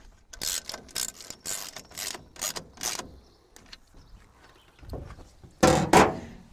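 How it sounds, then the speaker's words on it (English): A ratchet tightens nuts onto the rail of a Truxedo Deuce tonneau cover on a pickup, giving several bursts of rapid clicking at close range, with a louder final pair of bursts, and no talk. "Slightly tighten down your nuts onto the rail."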